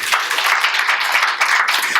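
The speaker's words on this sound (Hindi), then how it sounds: "क्या तालियां नहीं बजानी तुमने?" Brief burst of audience clapping during a spiritual discourse, many hands applauding together at a steady, moderate loudness with no voices.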